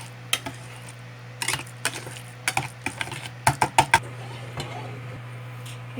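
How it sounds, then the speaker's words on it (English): A whisk works pumpkin paste in a bowl, close by, with irregular clicks and scrapes arriving in short bursts separated by quieter pauses, over a steady low hum and with no talk. "now I am going to use whisk because it's easier to get the paste"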